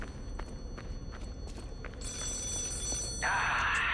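A telephone rings inside the video game Lies of P, a steady electronic trill that starts partway through and is joined near the end by a louder, brighter burst over low background game ambience.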